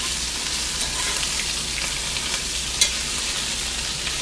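Bacon frying and browning in an electric skillet, a steady even crackling sizzle at close range with one small tap near the end, no talking.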